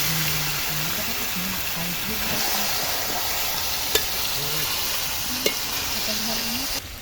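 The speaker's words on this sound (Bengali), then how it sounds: "আমরা এবার মাংসগুলো ঢেলে দেব।" Chicken meat tipped into frying spices in a pan sizzles steadily and close, with stirring scrapes and two sharp clicks over a dense frying hiss, while a voice hums faintly beneath.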